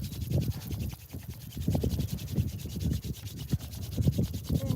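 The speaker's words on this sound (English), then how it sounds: "bring your palms together again and rub them again in a circular motion" Two palms rub together in a circular motion, making a close, steady swishing friction that rises and falls with each stroke, with no talking.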